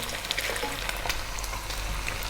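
Finely chopped onion fries in a pan over medium heat, giving a steady, close, crackling sizzle with dense popping throughout and no voices.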